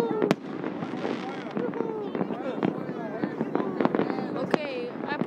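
New Year fireworks pop and crack in sharp, irregular bursts over a crowd, with distant booms scattered throughout while people chatter and shout in the background.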